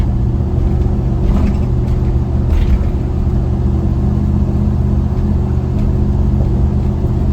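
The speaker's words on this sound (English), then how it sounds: "The truck runs great, drives great." A 1973 GMC K10 4x4 pickup's 468 big-block engine idles steadily in a low, continuous rumble with no talking, holding an even loudness throughout.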